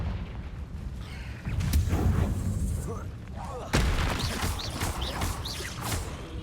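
Confringo blasting spell cast in the video game Hogwarts Legacy, with two sharp bursts about two seconds apart followed by crackling whooshes and fiery sizzles, set amid busy game combat noise.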